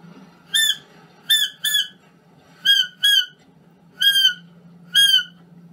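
A seagull call imitated on a saxophone mouthpiece, played as seven squeaky, whistling bursts, some paired, over a low steady hum, clear and close.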